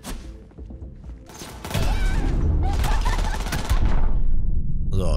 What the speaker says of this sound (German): Die haben aber ein paar Schüsse gebraucht